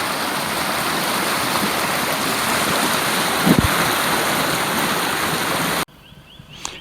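The Loddon River at Three Bridges, running high and strong, makes a loud, steady rushing roar that continues unbroken for several seconds before it cuts off abruptly to a quieter outdoor background.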